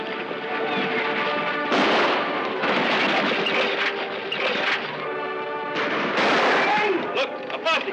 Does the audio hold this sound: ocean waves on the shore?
no